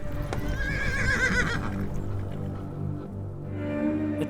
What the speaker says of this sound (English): his favourite horse, Sorrel, stumbled at a molehill